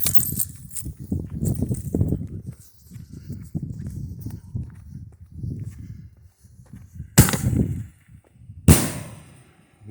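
Firework shells launched from an 18-shot fan rack outdoors, with low rumbling bursts and thuds through the clip and two sharp, loud cracks near the end.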